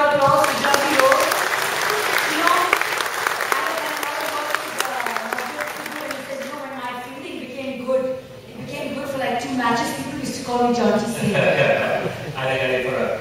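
Audience applause at a chat show with a cricketer at the JW Marriott Sahar in Mumbai, a steady clapping crowd filling the room while speech and a bright tonal sound run over it, the clapping thinning in the second half.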